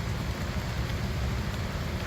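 Steady rain falling on a wet bridge construction site, a dense, even hiss with no breaks, fairly loud and close throughout.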